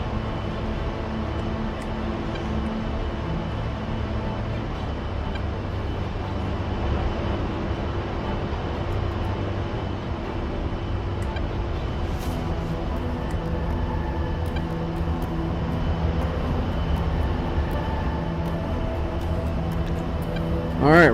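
Aircraft engines run at full takeoff power in a flight simulator. A steady, dense engine roar holds at an even level the whole time, with voices talking over it.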